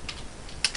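A few soft keystrokes tap on a computer keyboard as a web address is typed, close and light, ending in one sharper click, with no talk.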